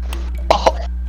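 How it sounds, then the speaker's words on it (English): Two quick close coughs from a person during a game session, short sharp bursts over a constant low electrical hum. "Sorry, I coughed."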